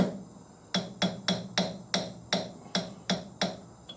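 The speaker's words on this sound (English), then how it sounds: "I'm going to loosen this just a touch because, where's my hammer?" Hammer taps on a rifle barrel fitting during F-class barrel work, about ten sharp metallic knocks in a steady, moderately paced rhythm, close and clear with no talk over them.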